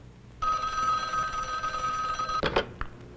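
A telephone bell rings in a 1960s Bell System exchange setting, one steady electric ring lasting about two seconds, followed by brief clicks and clatter as it stops.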